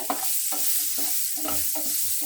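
Boiled soya chunks fry in a pan, with repeated stirring scrapes every half second over a low, steady sizzle, close and moderately quiet, no talking.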